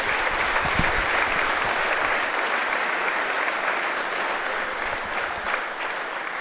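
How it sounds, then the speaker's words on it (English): An audience at a four-wall handball championship presentation gives the runner-up a big round of applause, a thick, continuous wash of clapping that stays strong for the whole stretch and fades only slightly near the end. "And a big round of applause for our very gallant runner-up, Sienna Nickreen."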